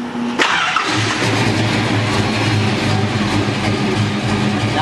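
A 1968 Dodge Charger engine cranks and fires almost at once, then settles into a loud, steady, rumbling idle heard up close.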